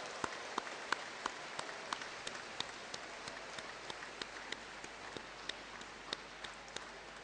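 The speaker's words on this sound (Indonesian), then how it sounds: "Mohon para wisudawan berdiri dan memberikan aplaus yang besar kepada mereka" Applause from graduates standing at a university graduation ceremony for professional, master's and doctoral programs, heard as faint, distant, steady clapping with scattered sharper claps throughout.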